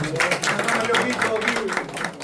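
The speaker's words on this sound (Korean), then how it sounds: "김영호 목사님 위해서 박수 한번 하세요." A Methodist church congregation applauds in a hall, giving a steady burst of many hands clapping at close range throughout.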